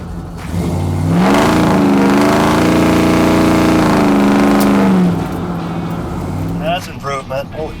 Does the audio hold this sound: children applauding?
no